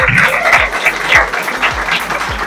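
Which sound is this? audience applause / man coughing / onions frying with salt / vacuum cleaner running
audience applause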